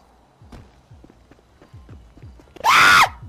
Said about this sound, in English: What the fuck was that scream?